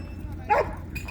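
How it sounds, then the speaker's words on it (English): At a dog park, a single short bark from a large Caucasian Ovcharka dog rings out mid-clip, near and fairly loud over low background noise. "why is he barking?"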